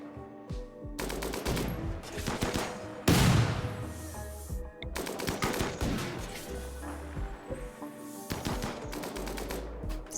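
Bursts of gunfire from RimWorld colonists shooting at a creature, rapid automatic volleys in several clusters with sharp single reports and a heavier blast, loud and continuous with no talk.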